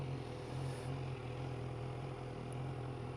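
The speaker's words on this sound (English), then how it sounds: "You can hear this fan kicking in again, can't you?" A fan hums at low volume with a steady whirring drone and faint tonal whine, continuous and even throughout with no talk.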